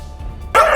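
Dogs barking in a news report on stray dog packs attacking people in Udham Singh Nagar, a loud close bark bursting in after a low rumbling lead-in.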